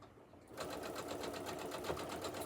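A sewing machine stitches quilt pieces for a county fair entry, starting after a brief pause and then running in a steady, close, continuous rapid whir of needle strokes.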